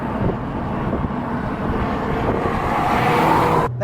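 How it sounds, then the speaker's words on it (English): An Abarth 500e electric hot hatch driving, its synthesized engine sound droning steadily with a rising tone under road and wind noise, fairly loud and close. "Now, Abarth have fine-tuned this sound generator pretty well, actually."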